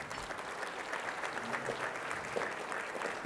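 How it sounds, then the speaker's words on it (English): Guests at a Good Scout Award luncheon clap for the keynote speaker, Troy Smith, a former Ohio State college football player, with a brief burst of steady, full-room applause at even volume. "A big round of applause for Mr."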